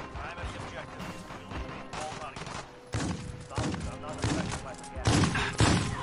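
Rapid bursts of gunfire and heavy impacts in the Warzone video game, growing louder toward the end, with players talking over the shooting.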